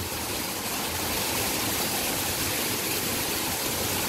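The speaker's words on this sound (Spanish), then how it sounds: "Ope agua, ope viento duro." Strong wind and rushing water outdoors, a loud, steady, broadband roar that holds without a break for the whole stretch, with no voices over it.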